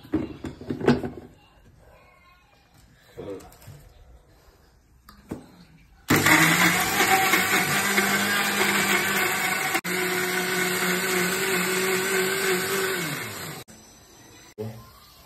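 A mixer grinder whirs loudly, grinding red onion, coconut and tomato, for several seconds after some quiet talk and clatter, then cuts off abruptly.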